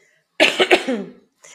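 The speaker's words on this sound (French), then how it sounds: "Je vais juste tousser" A single close, harsh cough in a few quick bursts trailing into a raspy exhale, followed by a brief faint breath.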